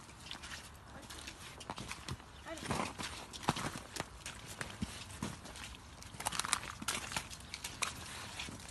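A horse's hooves clop over ground poles set out in an L-shaped exercise, with irregular close steps and occasional knocks, while a person talks throughout.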